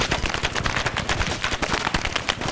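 Sustained machine gun fire in a Vietnam-era patrol video game, dense rapid bursts of gunshots rattling continuously and loudly throughout with no pauses.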